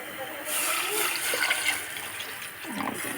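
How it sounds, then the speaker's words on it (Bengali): Broth ladled over a curry of rohu and puti fish, with bean and tomato, gives a steady splashing pour of liquid that swells mid-clip and then trails off, fairly close and alone. "রুই মাছ এবং পুঁটি মাছ একসাথে দিয়ে ঝোলগুলো দিয়ে দিলাম"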